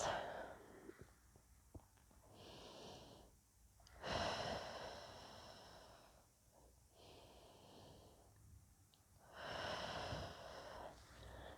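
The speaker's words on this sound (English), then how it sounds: "taking some deep inhales and exhales" Slow, deep breaths during a relaxing barre stretch: soft airy inhales and exhales alternate in long, unhurried cycles, close and fairly quiet, with no speech over them.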